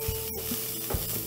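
Meat browning in a little hot fat gives a continuous close sizzling hiss, broken by a couple of soft knocks from stirring.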